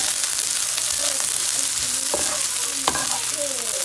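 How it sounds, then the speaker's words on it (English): Onions and spinach frying in a pan: a steady close sizzle with scraping stirring strokes and occasional utensil clicks throughout. "So we're just gonna fry these up for a little bit"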